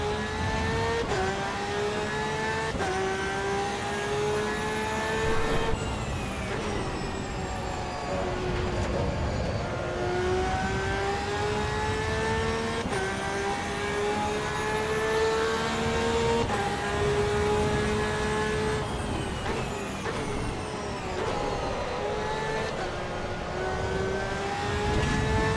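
Porsche race car in a racing game on track, engine tone climbing and falling repeatedly through gear changes, a steady loud whine running the whole way with no voices.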